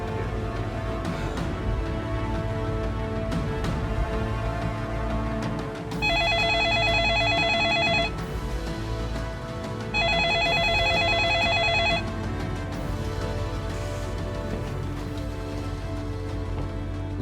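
A telephone rings in two bright, warbling bursts of about two seconds each, separated by a short gap, as a call is placed, over a constant hissing background like steady rain.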